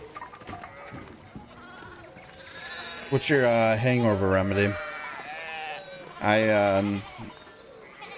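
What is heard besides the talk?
sheep bleating in the video game Pentiment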